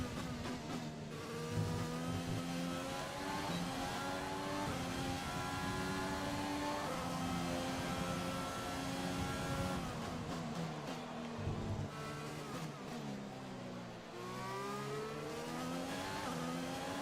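A Renault-powered race car in F1 2020 My Team mode revs hard through a lap, the engine note climbing and falling with gear changes, with occasional tire squeal, loud and continuous with no talk.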